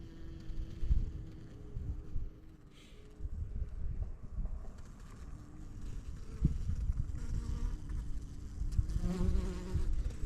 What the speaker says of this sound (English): These are obviously little bees.